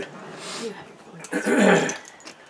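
A dog makes soft, close breathy growling and snuffling noises, low and brief, with a louder throaty burst partway through.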